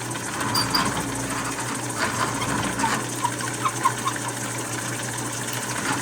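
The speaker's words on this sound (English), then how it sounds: "Just let the drill do the work." A 1/2-inch electric drill bores a mortise into wood for a table spreader bar, giving a continuous whirring motor drone with gritty cutting texture and slight surges in load, unaccompanied by voices.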